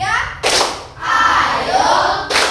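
A class of children runs through the "tepuk 1, 2, 3" clap routine, with two loud bursts of claps and shouting separated by a spoken stretch. Voices come through between the claps.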